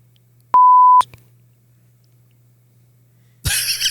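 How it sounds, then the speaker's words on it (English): A steady censor beep cuts in for about half a second over a low hum, followed later by a burst of noisy movement. "Beep."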